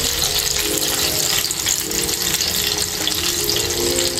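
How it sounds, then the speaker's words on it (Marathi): Seekh kebabs fry in a pan with a steady, loud, close sizzle that continues without break and has no voices over it. "आता मी त्याला जरा कडेने पण फ्राय करून घेते।"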